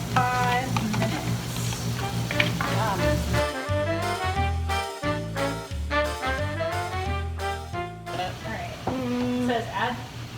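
Celery, potatoes and onion frying and sizzling in a pot for a mock turtle soup, a steady crackle running the whole time beneath background music with tonal, rhythmic layers.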